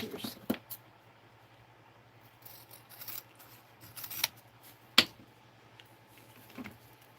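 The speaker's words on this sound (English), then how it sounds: "So I'm going to cut a little of my fabric off on that." Scissors cut fabric in a series of sharp snips and clicks at irregular intervals, close by, with one louder snap near the middle and quiet handling noises between the cuts.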